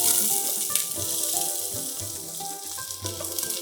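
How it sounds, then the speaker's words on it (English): Chopped onion hitting hot oil left from cooking pork, for Cebu-style rice; a steady, loud, close sizzle with crackling pops throughout, heard alone without talk. "I'm going to start by adding some of the oil that the pork cooked in"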